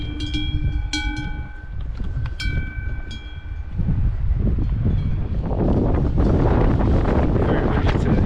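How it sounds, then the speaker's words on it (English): Strong mountain wind buffets the microphone on a hiking trail of the Tour du Mont Blanc, a loud broadband roar that swells and grows steadier in the second half, with a few brief tonal squeaks early on. "Very windy today."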